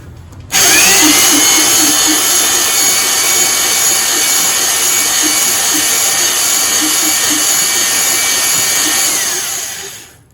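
A boring machine cuts the cylinder of a Yamaha Blaster 2-stroke. The loud, steady metallic whine starts abruptly, holds for about nine seconds and then spins down.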